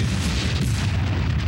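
A loud, sustained film explosion with a deep rumbling boom that fills the whole clip, dense and roaring without a break.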